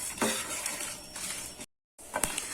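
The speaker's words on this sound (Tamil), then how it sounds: "ஃப்ளேம் மீடியமாக வச்சு வறுத்துக்கலாம்." Two cloves and five dried red chillies dry-roasting in a pan over a medium flame, with soft, close scraping and stirring noises, a brief silent gap, then more stirring.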